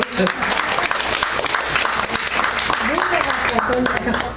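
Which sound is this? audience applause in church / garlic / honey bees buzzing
audience applause in church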